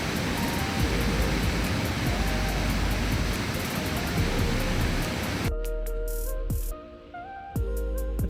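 Powerful waterfall at Geiranger Fjord in Norway, a loud continuous roar of rushing water that cuts off abruptly partway through to a quieter scene with faint tones and clicks.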